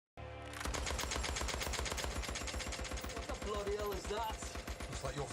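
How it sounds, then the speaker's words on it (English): A Lewis machine gun fires in a Peaky Blinders action scene, a loud, rapid, continuous rattle of shots that starts abruptly and runs without pause, with music in the background. "What a great action shot of the Lewis machine gun here."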